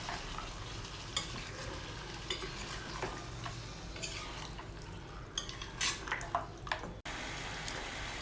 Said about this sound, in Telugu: కర్డ్ యాడ్ చేసిన తర్వాత కర్డ్ అంతా కూడా బాగా కలిసేటట్టు మిక్స్ చేసుకోవాలండి